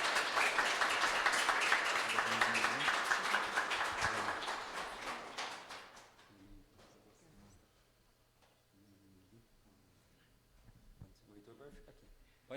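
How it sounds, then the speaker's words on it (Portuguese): A church congregation applauds during a Presbyterian worship service, a dense burst of clapping that runs for several seconds, then fades out and leaves quiet room sound with talking in the background. "Gente, podem aplaudir, por favor."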